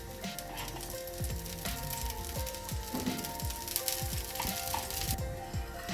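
A dosa sizzles in freshly added oil on a hot pan, a soft close crackle and hiss running throughout with scattered light pops and ticks.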